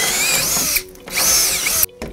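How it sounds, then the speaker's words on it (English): A power drill bores a hole through a structured media center enclosure, whining loudly and close in two sustained bursts with a brief pause between them. "So in this case, we'll drill a hole right through here."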